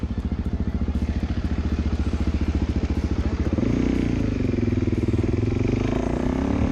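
A 300-pound motorcycle engine idles with a rapid, steady, loud putter, then revs up and holds a rougher, louder drone near the end.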